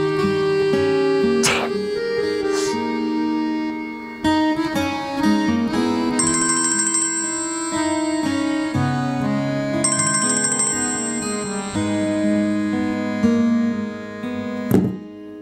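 Ringtone from a phone call going unanswered, repeated electronic trills that recur in bursts over a steady musical background, moderately loud, with no one speaking.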